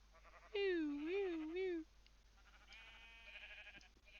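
A Barbados Blackbelly sheep bleats at a regional sheep show, one long wavering cry close by, followed by quieter, more distant bleating and murmuring voices in the background.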